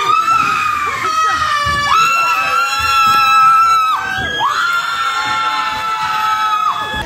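An excited crowd shouts, yells and screams loudly as people burst into a cathedral during a raid, voices rising in repeated surges over continuous commotion.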